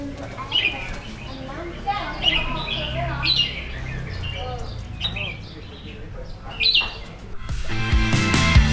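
Birds chirp and squawk in short, bright bursts at an outdoor breakfast spot by Lamai Beach on Koh Samui, Thailand, fairly close, over background murmur, with louder clatter near the end.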